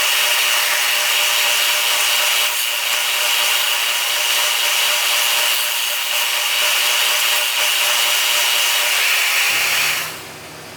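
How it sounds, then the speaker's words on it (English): A sander smooths a wooden Celtic knot piece with a continuous loud, even hiss and rasp. Near the end the grinding drops away, leaving a lower motor hum. "then I'll clean it up on the sander"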